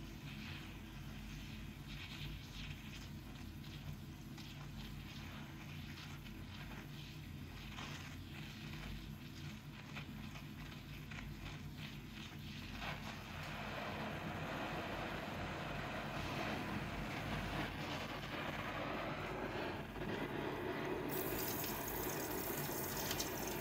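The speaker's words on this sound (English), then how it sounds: "I'm increasing the gas and oxygen flow to increase the heat coming from the flame to get the silver powder to melt completely." Gas and oxygen torch flame roaring steadily as it melts silver powder converted from silver chloride, a broad constant hiss that grows louder and fuller partway through as the flow is turned up.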